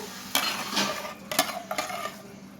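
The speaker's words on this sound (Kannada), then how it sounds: "ಇವಾಗ ಹಲ್ವಾ ರೆಡಿ ಆಗಿದೆ. ಸರ್ವಿಂಗ್ ಬೌಲ್ಗೆ ತೆಗೆದಿಟ್ಕೊಳ್ಳೋಣ." Bottle gourd halwa flavoured with cardamom is scooped from the pan into a serving bowl: a few close spoon scrapes and light metallic clinks against cookware, with no speech.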